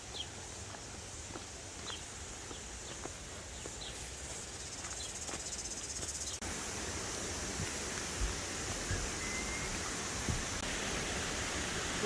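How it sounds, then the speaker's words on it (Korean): Whangarei Falls in New Zealand rushes in a steady, faint roar of falling water, with chirping insects and occasional footsteps nearby. "왕가레이 폴스 왕가레이 폭포입니다"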